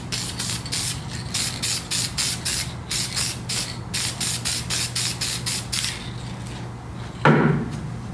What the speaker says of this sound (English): Take my spray adhesive. Lightly spray some tack down on the palette.